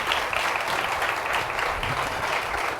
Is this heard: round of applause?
yes